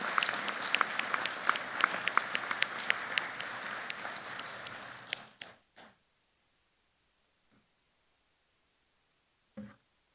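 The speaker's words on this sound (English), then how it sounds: "let's give everybody a big round of applause." A large audience at a national board meeting claps in a big, dense round of applause for about five seconds, then it quickly fades out, leaving silence broken by a few faint scattered claps.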